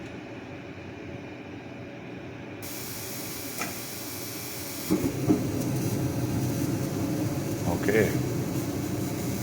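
A garage heater fires up with a rising steady whoosh and rumble of burner and fan, holding loud and even after ignition partway through, with a faint clank or two and a brief spoken word.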